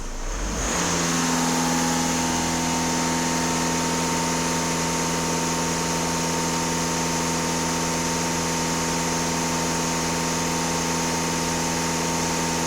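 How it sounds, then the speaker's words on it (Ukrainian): A Skoda Superb 2.0 TDI 4x4 diesel engine runs close by, starting up and then holding a steady, raised speed with a constant low drone for the rest of the clip. "даю газ в пол тисячі обертів"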